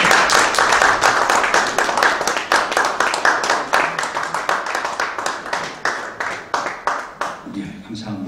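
Audience applauding at a Korean Presbyterian revival society's 39th general assembly in a centennial memorial hall: dense, steady crowd clapping that thins out and fades near the end.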